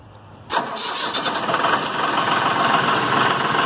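A Mahindra 4565 2WD tractor's diesel engine cranks and catches with a sudden loud start, then settles into a steady, close rumbling idle with no one talking.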